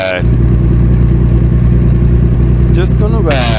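Truck engine in the American Truck Simulator game runs at a steady, loud drone for the whole stretch, with a brief voice at the start and end.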